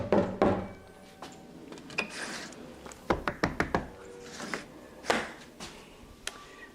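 A bird repeatedly striking the chrome front of a truck, producing irregular sharp knocks and taps, some in quick bursts, fairly close and isolated against quiet background.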